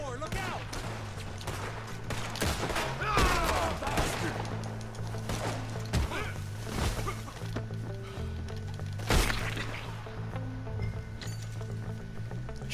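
Gunfire in a Red Dead Redemption 2 shootout: several sharp, loud shots spread irregularly over a busy game mix with hooves and ambience, and someone speaking at points.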